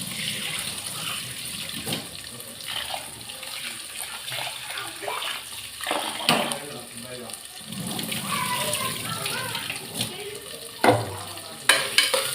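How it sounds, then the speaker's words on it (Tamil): Basmati rice is washed in water in a kitchen, with sloshing and swirling splashes, grain rubbing and occasional louder knocks against the vessel over several seconds. "அதில் பாஸ்மதி ரைஸை கழுவிக்க போகிறேன்"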